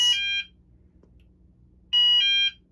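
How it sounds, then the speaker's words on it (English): Two bursts of an electronic alarm tone from a Cerberus Pyrotronics CP-2ER fire suppression panel sounding general alarm, a short blast then a pause and another pulsing burst, loud and nearby with quiet between. "You can see that sets off zone 1, sounding the general alarm"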